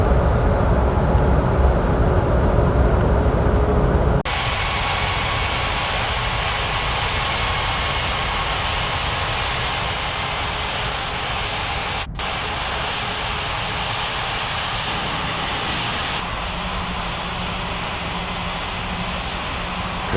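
A Copa airliner taxiing to runway 05 in an air traffic control game, its loud steady jet engine drone continuing throughout with a shift in tone partway through and no talk.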